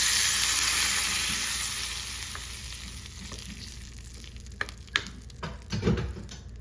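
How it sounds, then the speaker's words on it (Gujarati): A hot tempering of oil, asafoetida and curry leaves sizzles loudly as it hits appam batter, the hiss fading steadily over several seconds before a few soft clicks and stirring knocks near the end. "હવે આપણે આ વઘાર આપણે જે આ બેટર બનાવ્યું છે એમાં નાખી દેવાનું છે।"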